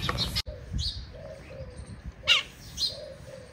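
Pigeons coo in soft repeated phrases while small birds chirp in short bright bursts on a morning outdoors, moderately near and fairly quiet, with no talk.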